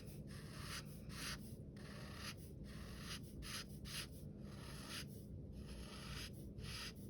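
A pencil colors in part of a drawing with one-directional strokes, making a quiet, close scratchy rubbing in a steady rhythm of short strokes separated by brief pauses.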